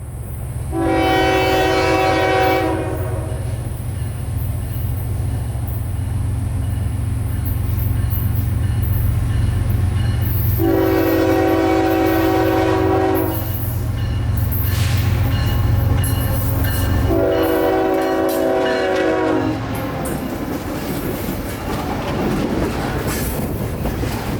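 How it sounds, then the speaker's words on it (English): A juice train, a freight train, rumbles past close by heading north, loud and continuous, with its horn sounding three long blasts spread across the passage. "the juice train is coming north, so here he is"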